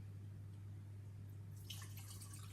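Water poured into a pan holding sugar on a stove, a soft trickling splash entering after a quiet start over a steady low hum, close and moderately quiet.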